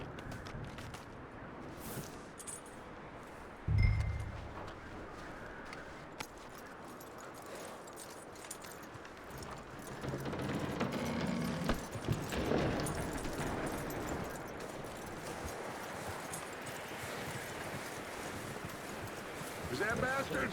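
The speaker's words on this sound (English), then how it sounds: "That looks like a decent horse." A horse in Red Dead Redemption 2 moves with soft clip-clop hoofbeats over a windy outdoor background, a louder thump near the start, as people talk over it.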